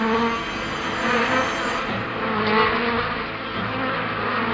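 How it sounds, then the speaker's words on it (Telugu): A swarm of insects buzzes continuously around a character in a 2D animated children's serial, making a dense, loud, wavering drone that fills the whole moment without any speech. "ఈ పురుగులేమో నన్ను అసలు వదలడం లేదు"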